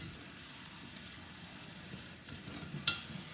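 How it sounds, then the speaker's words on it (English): Cooked farro is stirred in a pot after a cold-water rinse, a soft wet churning under a steady watery hiss, ending in a brief sharp clink near the end. "And I'll just stir it."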